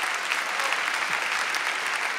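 Concert audience at an album launch show applauding: a dense, continuous wash of clapping from a large crowd, steady and loud throughout.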